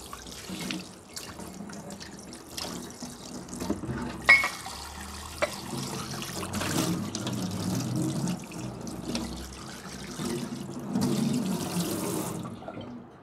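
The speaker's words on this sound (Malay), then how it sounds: "Lepas tu kita bersihkan dengan air yang mengalir." A new kuih dangai mould is rinsed under running tap water, a continuous splashing stream with occasional louder knocks and clatters of the mould being handled in the sink.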